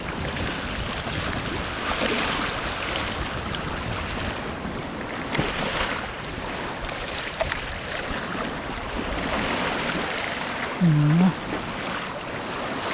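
Steady wind and rushing sea noise aboard a sailing boat under self-steering near Jan Mayen, a broad continuous whoosh with gusty swells and a brief tonal creak near the end, no speech.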